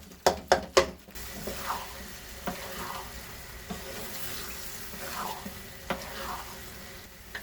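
A wooden spoon stirs carrot halwa with khoya in a pan, giving a few sharp knocks against the pan at first, then soft intermittent scraping and faint sizzling at low volume.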